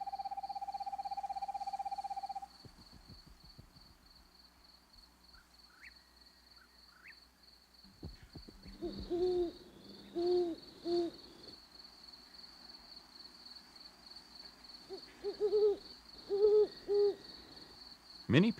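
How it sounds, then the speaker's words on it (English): An owl hoots in short rhythmic series, soft low calls repeated twice with a gap between, over a quiet background with a faint steady tone. "Many people have heard an owl hooting"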